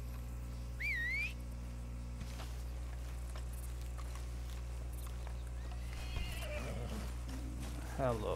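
A horse whinnies in a synthetic Red Dead Online game soundscape over a steady low hum, with short whistle-like calls early and a rising neigh near the end.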